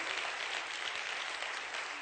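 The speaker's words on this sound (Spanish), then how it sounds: "¿Le puede regalar un aplauso al Rey de Reyes?" A church congregation bursts into steady, dense applause that fills the room continuously without a break.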